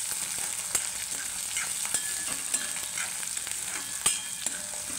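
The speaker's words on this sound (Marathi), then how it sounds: "चांगला कांदा भाजून घ्यायचा." Onion frying for a cowpea usal, sizzling steadily in a pan with scattered crackles and an occasional spoon stir, close and continuous.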